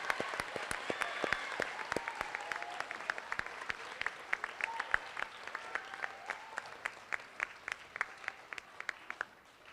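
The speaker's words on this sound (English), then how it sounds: "A round of applause" Applause at a school graduation moving-on ceremony, a steady patter of many hands with some sharp nearby claps standing out, fairly quiet and continuous, tapering slightly toward the end.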